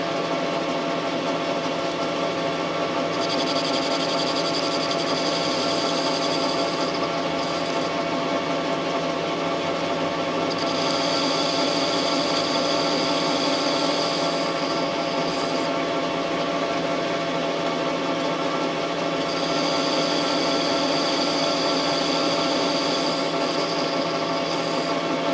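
A metal lathe runs steadily at 654 RPM while turning a 3/4-inch mandrel, giving a continuous mechanical hum with a faint whine. Higher-pitched cutting or feed tones rise and fall in a few stretches.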